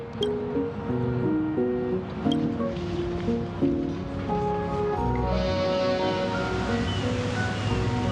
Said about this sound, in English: The boat has arrived.